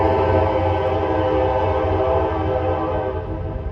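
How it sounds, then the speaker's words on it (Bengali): A train rumbles past close by in the United States, a loud sustained roar of wheels and engine drone that fades slightly at the end. "ওই দিক ট্রেন আসছে"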